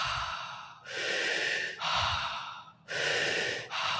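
A voice imitates active breathwork, drawing three loud, rapid breaths in through the mouth, each a rushing airy gasp separated by short pauses, close and alone.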